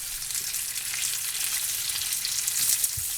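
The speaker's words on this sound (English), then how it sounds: "add 4 more pieces to the skillet." Breakfast sausage patties fry in a skillet with a steady close crackling sizzle, bright and dense throughout, with a few louder pops and spatters near the end.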